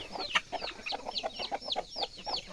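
Morning chickens keep up a rapid string of bright clucks and short squawks, nearby and moderately loud, a flock calling back and forth with no one talking.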